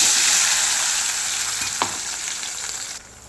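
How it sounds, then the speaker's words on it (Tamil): Green chillies, ginger, onion and tomato sautéing in a pan for a Tamil-style chutney, giving a loud, steady hiss and sizzle up close, with one brief stir or scrape partway through, no talking. "இப்போ இதை நம்ம வதக்க வேண்டியதாங்க."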